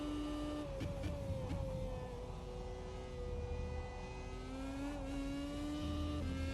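A race car in rFactor 2 holds a steady high engine whine, its pitch stalling and dropping briefly around rejected upshifts before climbing again, close and continuous with no talk.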